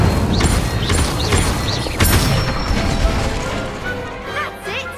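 Incendio fire spells striking a training dummy in the video game Hogwarts Legacy, a series of loud crashing, whooshing impacts with mechanical clatter, several hits in quick succession.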